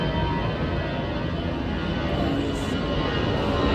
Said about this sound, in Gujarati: વિમાન જઈ રહ્યું છે